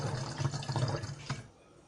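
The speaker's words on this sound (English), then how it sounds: "and now I will pour this up to 20 ml." Liquid pours into a measuring container up to the 20 ml mark while homemade hand sanitizer is mixed, a close, steady trickling gurgle that stops abruptly near the end.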